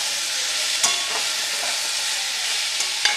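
Raw prawns frying in hot oil over low-to-medium gas, a steady bright sizzle with a few soft stirring knocks against the pan, close and continuous.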